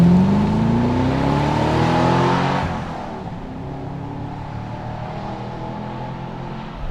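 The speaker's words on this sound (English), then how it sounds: "what is it about the red-blooded American male that we like V8 noise so much?" A Chevrolet Camaro SS V8 revs hard, its engine note climbing steeply in pitch for about two and a half seconds before dropping into a deep, steady rumble as it settles or pulls away.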